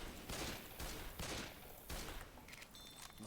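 Rapid bursts of gunfire in the video game Left 4 Dead 2, several loud volleys in quick succession followed by fainter scattered shots and ringing game effects, with no voices.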